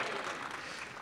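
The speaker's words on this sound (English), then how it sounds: "This is where I get a little bit of an applause" A brief burst of applause from a lecture audience, steady clapping filling the moment without a break.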